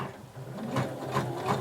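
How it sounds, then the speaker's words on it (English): A sewing machine stitches a 5/8-inch seam around the curved edge of fabric, with no backstitching, giving a soft, fairly quiet mechanical hum and a few rhythmic pulses up close. "you're going to sew, don't back stitch, around that curve at 5/8 of an inch seam allowance"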